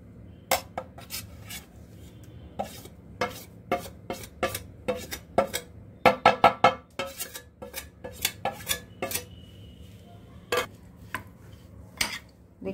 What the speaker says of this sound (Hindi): मसालों में मिक्स कर देंगे पहले अच्छे से और बाद में दही में भी मिक्स कर देंगे